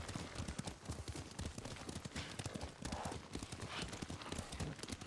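Rapid rhythmic hoofbeats of a galloping horse ridden across open ground in Ghost of Tsushima, loud and continuous throughout, with a brief whinny and ambient game sound beneath.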